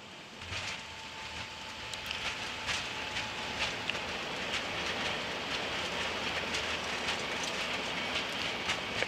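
An Airbus A340-600 rolls out on landing with reverse thrust and braking, a steady broad roar with faint rattling clicks heard from the cockpit, even and sustained throughout.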